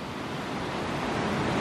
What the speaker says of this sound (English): I don't know if you can hear me over the sound of the